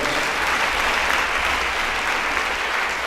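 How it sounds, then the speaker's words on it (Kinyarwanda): A church congregation applauds continuously, dense even clapping filling the room for a few seconds without pause. "Komera Imana amashyi niba wumva"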